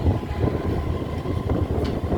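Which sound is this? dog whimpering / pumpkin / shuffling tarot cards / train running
train running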